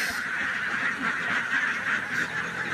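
Domestic ducks being loaded onto a truck, a dense continuous chorus of quacking and honking from many birds at close range, with no talk.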